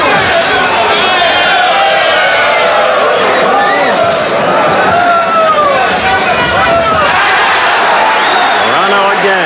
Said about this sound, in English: Serrano again, and the crowd responds